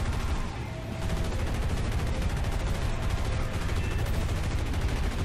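Aircraft machine guns in the War Thunder video game fire in a long, continuous rattling burst, loud and close, with one brief dip near the start.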